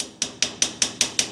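Seven sharp hammer blows land on sheet metal in an even rhythm, each a bright close clank, while a welded door is fitted up on a PA-12 experimental aircraft build.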